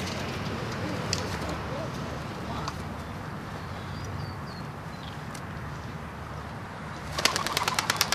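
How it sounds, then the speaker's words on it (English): Released doves at an outdoor memorial for fallen veterans, with a steady noisy background and a short burst of rapid wing flapping near the end. "These doves will reunite in the air and then fly back to their home in Yucca Valley."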